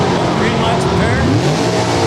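Drag racing cars launch at an NHRA event, including a 1972 Chevrolet Nova with a 408-cubic-inch small-block engine, a loud, roaring, rising engine howl that stays dense and close, with an announcer talking over it.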